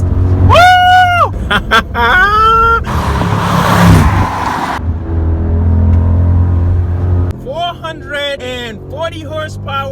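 A BMW X6 50i with 440 horsepower and 480 pound-feet of torque accelerates hard, its engine a steady, loud low drone beneath excited whoops and shouts from inside the cabin.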